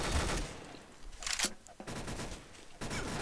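Dense rapid gunfire fills a Garry's Mod Trouble in Terrorist Town match, bursts of automatic shots stacking into a loud continuous roar with a brief lull before the firing resumes.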